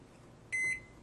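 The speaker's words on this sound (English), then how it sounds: "So I'm going to set my timer here for 15 minutes to start." Oven timer being set, a single short electronic beep, clear and close, heard alone in a quiet kitchen.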